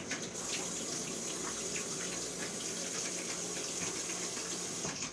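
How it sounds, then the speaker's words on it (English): Tap water runs continuously in a steady, hissing stream as a vape mod is rinsed, faint and even from start to finish. "I'm gonna put some water on my mod on the outside"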